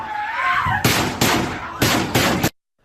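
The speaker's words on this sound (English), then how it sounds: "That steady stream of gunfire breaking out at 2:21 p.m." Loud bursts of gunfire come in four rapid clusters, each a dense run of shots, after a stretch of a distressed voice, in a school shooting.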